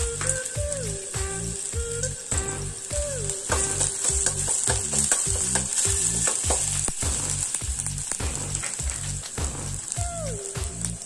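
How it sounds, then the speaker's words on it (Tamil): Ginger garlic paste frying in hot oil in a pan for a Tamil thattu vadai snack, with a loud, continuous close sizzle and crackle throughout, alongside regular rhythmic scraping or stirring strokes, no talking. "அதுக்கு ஒரு பேன்ல கொஞ்சமா எண்ணெய் விட்டு எண்ணெய் சூடானதும் இது கூட கொஞ்சமா இஞ்சி பூண்டு பேஸ்ட் சேர்த்துக்கலாம்."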